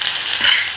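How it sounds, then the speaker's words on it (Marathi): Cumin and garlic drop into hot oil in a kadhai, giving a steady, loud, close sizzle with a slight swell midway, alone with no voices. "आपलं तेल गरम झालेलं आहे। याच्यात टाकूया जिरं"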